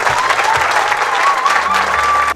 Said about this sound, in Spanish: Ahora un aplauso para los bomberos.